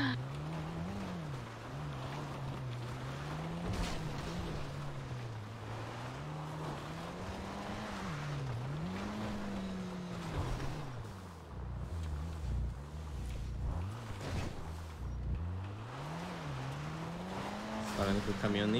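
A car in a video game driving along a narrow dirt motocross trail, its engine droning and wavering in pitch as it revs and slows over wind noise, with a person talking over it.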